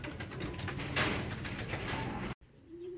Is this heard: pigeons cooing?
yes